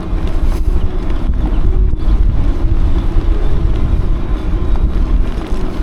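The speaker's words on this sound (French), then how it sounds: "il y a beaucoup de vent aujourd'hui" Strong, steady wind buffets the microphone outdoors at the roadside of the Paris–Roubaix 2025 race, a loud continuous low rumble with gusty surges and no talk.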